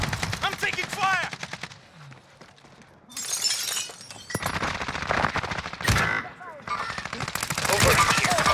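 Gunfire in Call of Duty Warzone on Rebirth Island comes in loud, rapid automatic bursts with sharp, shattering impacts, broken by short pauses. The shooting stays near and intense throughout, with occasional game voice sounds mixed in.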